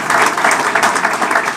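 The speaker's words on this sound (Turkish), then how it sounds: "Burayı alkışlayın ya" An audience at a Turkish political speaking event claps together, a steady burst of close, dense applause lasting a moment without pause.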